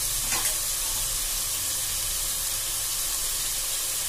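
Masala with turmeric, chilli powder and onion sizzles in hot oil for an eral (prawn) biryani, giving a close, steady, loud frying hiss throughout.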